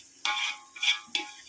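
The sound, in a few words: biryani masala with yogurt sautéing in oil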